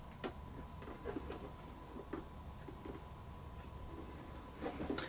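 Black waxed thread being pulled through pre-widened holes in black leather while hand saddle stitching a bag, giving soft scattered rubbing and ticking strokes close by over a faint steady hum.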